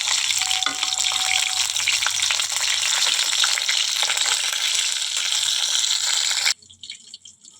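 Pieces of rohu fish fry in hot oil in a home kitchen with a loud, dense, continuous sizzle that cuts off sharply near the end, leaving faint low clatter.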